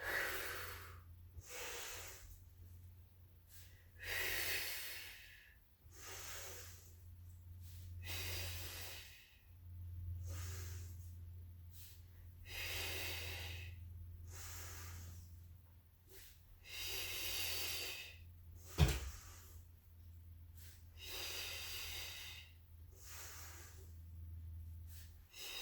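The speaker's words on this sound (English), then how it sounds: "Our breath in is here. Breath out. Circle around, breath in." Slow, deep breathing during a Pilates abdominal exercise, with close, audible inhales and exhales repeating in a steady rhythm over about half a minute.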